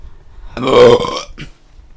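A single loud, close human burp, drawn out for about three-quarters of a second, with a faint trailing grunt after it.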